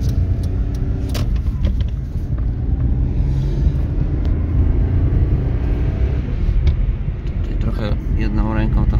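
A Daewoo Matiz drives along with a low rumbling engine and road noise, with a few clicks and knocks from inside the car and someone talking briefly over it.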